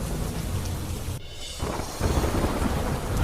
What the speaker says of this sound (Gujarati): વડિયાના દેવળકી ગામમાં પણ ધોધમાર વરસાદ.